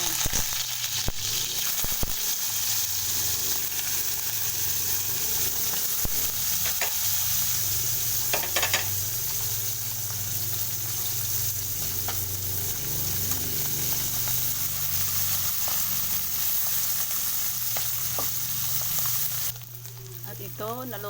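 Rinsed dried sapsap fish fries in a hot pan with a continuous crackling sizzle, with occasional utensil taps and stirring scrapes over the top, then a brief clatter near the end.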